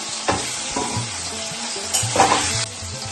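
Rice frying in a pan sizzles steadily while a utensil stirs it in a few scraping strokes, close and fairly loud with no talking.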